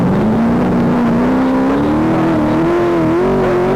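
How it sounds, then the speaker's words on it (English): A 300-horsepower Triumph TR7 V8 rally car at a rally sprint event accelerates hard. The engine is loud and close, its note climbing steadily as it pulls away, with no talk over it. "He's got that 300 horsepower TR7V8 there"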